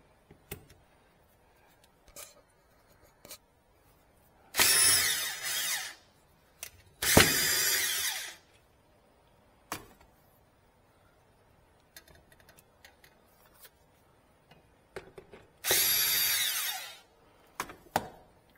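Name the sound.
power drill driving screws into a wall stud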